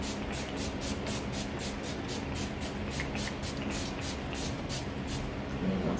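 Urban Decay setting spray is pumped again and again, a quick, even series of about a dozen short, close hissing spritzes.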